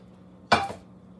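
A tortilla pizza slid onto a frying pan gives a single short scraping clatter of metal, close and alone, fading within a quarter second.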